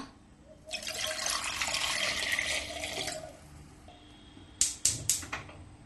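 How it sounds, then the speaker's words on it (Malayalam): Water is poured into a pressure cooker holding sweet potatoes: a close, steady splashing pour lasting a couple of seconds, then a few sharp clicks and knocks. "ഇനി ഇതിലേക്ക് ഇതിന്റെ ഒരു പകുതി ലെവൽ വരെ വെള്ളം ഒഴിച്ച് തീ കത്തിക്കാം."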